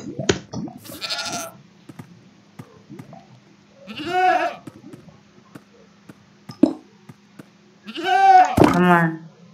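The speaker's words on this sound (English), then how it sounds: "I'm gonna summon a goat which will headbutt you" Goats in Minecraft screaming: three loud, warbling bleat-like cries spaced a few seconds apart, the last the strongest, with soft knocks and clicks between them.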